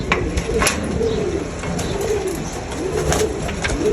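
Several pigeons coo in low, warbling phrases in a pigeon fancier's loft, one after another, with a constant hum behind them.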